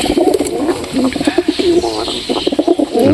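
Lakka (fantail) pigeons coo close by in a continuous series of soft, rolling, throaty calls that repeat without pause.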